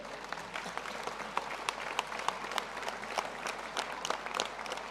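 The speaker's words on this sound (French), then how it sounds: "Monsieur Jacques Rayet, le préfet de l'Essonne, que je vous remercie d'applaudir." An audience at a New Year's civic ceremony in Essonne applauds a prefect, steady moderate clapping from a room full of people with scattered sharper claps throughout.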